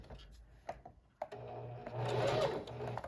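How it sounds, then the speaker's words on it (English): After a few quiet handling taps, a sewing machine stitches the center seams of fabric pockets in a close, steady whirring run with a slight pulse. "Sew the center seams on both of the pockets."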